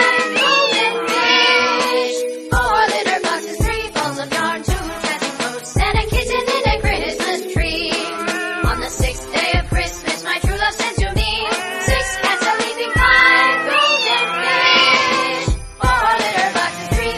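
A kitten's meows are sung as a rapid, pitched melody in a festive Christmas song, loud and continuous with many short, bright cries strung together.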